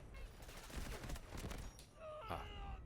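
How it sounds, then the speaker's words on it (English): Video game gunfire plays through an Audeze Maxwell gaming headset, heard as a dense rattle of rapid shots and bursts with some tonal effects near the end, faint and slightly distant. "Now the gunshots that was coming towards me as well, they sounded pretty good too."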